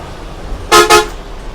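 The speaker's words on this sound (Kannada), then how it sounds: "ಹಾರ್ನ್ ಹಾಕ್ತೀರಾ? ಹಾಕುವ." Two short, loud honks from a brand-new AYRA non-AC sleeper bus approaching an underpass, sounded back to back with a brief gap over low road noise.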